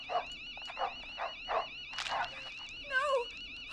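A dog in the video game Killer Frequency yelps and whimpers in short, high, strained bursts, with a steady electronic tone running underneath.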